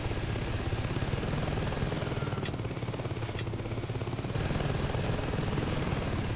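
Helicopter in the video game Saints Row 2 during a Heli Assault mission, its steady rotor thump and engine drone running loud and continuous throughout.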